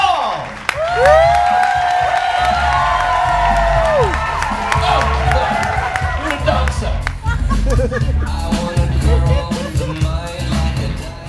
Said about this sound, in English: Awesome applause.